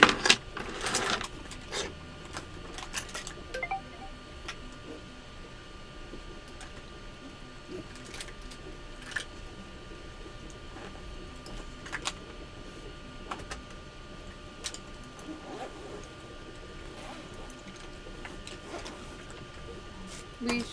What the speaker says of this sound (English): I got my printer working.